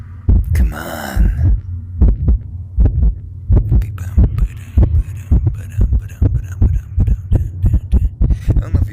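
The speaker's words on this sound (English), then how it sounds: "I don't know if you guys can hear the heartbeat," A heartbeat sound effect in the horror video game Horror Monkey thumps loudly in steady double beats over a low hum, with a brief noisy burst near the start.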